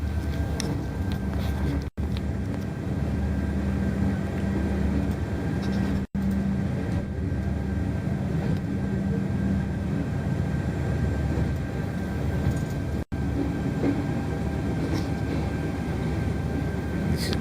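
A steady, loud rumble fills the inside of a daytime passenger train running from Bucharest towards Bulgaria, with a constant low hum and a few brief cut-outs throughout.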